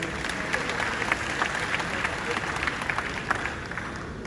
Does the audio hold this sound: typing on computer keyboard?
no